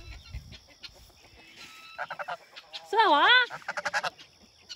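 Geese honk in a farmyard, including a curly-feathered goose among the flock: a run of short, nasal honks builds into one loud, wavering call, followed by more quick honks, while a person speaks briefly nearby.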